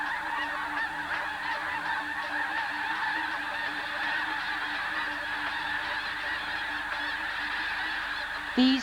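A flock of geese honks continuously in a maize field on the prairie near Sand Lake in winter, many overlapping calls forming a dense, steady chorus with no talk.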